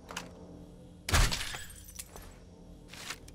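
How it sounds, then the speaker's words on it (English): Glass breaking in the zombie survival game 7 Days to Die, one sharp loud shatter with a crunchy burst and tinkling tail, then faint clinks, heard alone with no talk. "Have to break the glass first."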